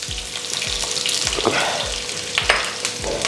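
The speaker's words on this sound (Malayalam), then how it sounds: "സവോള, മീഡിയം സൈസിലുള്ള സവോളയാണ്, ചെറിയ ക്യൂബ് കഷ്ണങ്ങളായി അരിഞ്ഞെടുത്താണ് നമുക്ക് ഓയിലിലോട്ട് ചേർത്ത് കൊടുക്കാം" Cubed medium-sized onion sizzling in hot oil with fennel seeds, a steady crackling fry with occasional stirring scrapes, close and continuous, no voices.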